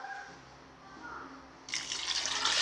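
Water pours into a pressure cooker holding lentils and tomato, a sudden steady splashing rush that starts partway through and continues loudly to the end, after a quieter stretch of kitchen background.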